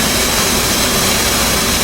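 F/A-18C Hornet jet engines running after a cold start in DCS World, a loud, steady, dense roar and whine filling the whole moment without any break.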